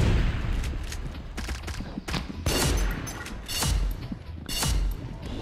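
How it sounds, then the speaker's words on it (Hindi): Rapid gunfire in a shooting video game, including sniper shots, with repeated loud bursts of shots and mechanical clatter across the whole stretch, with no talking. "अरे क्यों इनको इतनी गोली बरसा रहा हूँ, कुछ नहीं हो रहा।"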